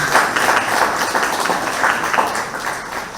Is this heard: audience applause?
yes